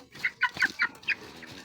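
An ailing old hen, about to be caught and dosed with a pill, gives about five short, sharp clucks in quick succession, close and clear with no talk over them.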